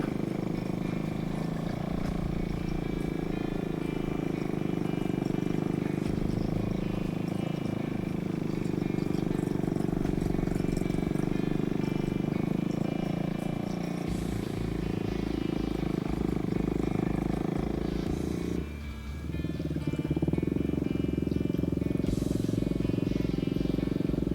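A KTM RC390 motorcycle climbs a twisty hill held in first gear, its engine droning steadily and fairly loud throughout with slight swells, wind noise and a brief dip near the end.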